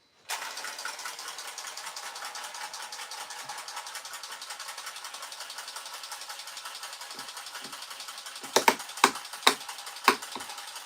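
A rapid ratcheting clatter runs steadily while a workpiece is clamped onto a woodworking jig for shaker beaded doors, closing with a few sharp, louder clicks and knocks near the end.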